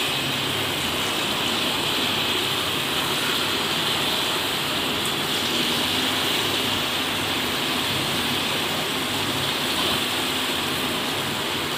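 Mango fritters (aam bora) sizzling in hot oil, a steady dense hiss and crackle that holds at an even, fairly loud level the whole time, with no talk.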